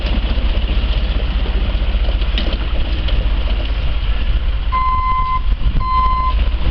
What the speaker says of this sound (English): Hard to maneuver a big truck like that in a tight space,